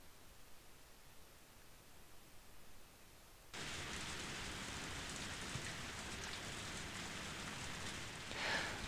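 Rain falling in the video game Murder Detective Jack the Ripper: after a few seconds of faint ambience, a dense, even hiss of rain starts abruptly and continues steadily at moderate volume, with no voices.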